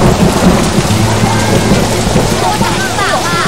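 Typhoon rain pours steadily while thunder rumbles low and continuous in southern Taiwan near Kenting, a dense loud wash of falling water with no break.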